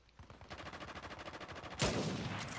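Rapid automatic gunfire in the video game Uncharted 4, a steady stream of closely spaced shots over a couple of seconds, ending with a louder blast.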